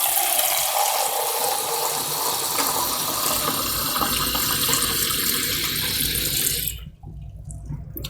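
Water running steadily from a tap while measuring water for boiling in a printmaking session, a loud continuous gushing stream that stops abruptly near the end, leaving quieter room noise.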